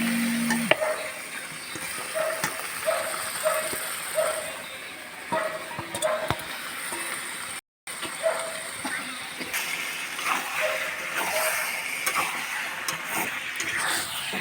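Yogurt-marinated chicken pieces sizzle in hot oil in a pan, a moderate crackling hiss with occasional utensil taps and scrapes, and a brief dropout partway through.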